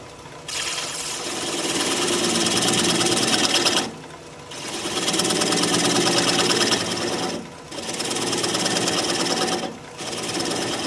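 Wood lathe spinning a bowl blank while a 3/8 inch gouge cuts it, a steady, loud buzzing whir in three long passes separated by brief pauses, with no talk.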